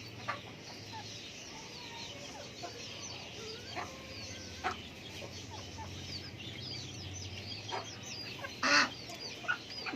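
Village chickens and a rooster cluck and call in a yard, scattered short calls with a louder burst near the end over a quiet background.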